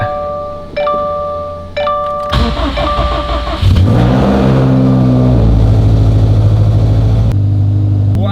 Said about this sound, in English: Let's go ahead, get a cold start on this thing, and go drive it.